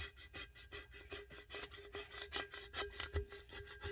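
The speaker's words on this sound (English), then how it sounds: "I'm going to take this plastic scraper and I'm just going to kind of run it down until I can see it really good" A plastic scraper rubbed down the seam of a taped sublimation tumbler wrap, making quick, repeated close-up rasping strokes in a steady rhythm, with no voices.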